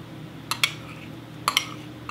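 Two pairs of sharp metallic clinks sound close by as shea butter and grass-fed tallow go into a pot for lotion bars. A faint extra clink follows at the end, over a quiet room background.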